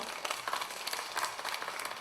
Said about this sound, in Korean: 우리 온 가족에게 박수 한번 보내드릴까요?